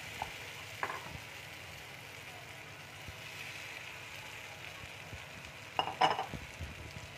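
Potatoes and soybean chunks tipped into a spiced masala frying in a pan: a faint, steady sizzle with soft stirring and a brief clatter of utensil against the pan near the end.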